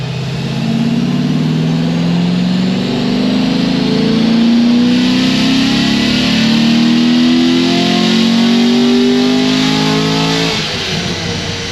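Engine with RPM Stage 3 heads and cam package on a dyno pull, rising steadily in pitch as it revs up over about ten seconds, loud and sustained, then cutting off near the end.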